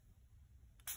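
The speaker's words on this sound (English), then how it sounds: "I'm gonna spray it with my spray bottle" A spray bottle spritzes water onto an art journal page: one short, bright hiss of mist near the end, after near silence.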